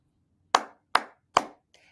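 Three crisp hand claps land at an even, steady pulse, close and clear in a quiet room, followed by a faint softer tap.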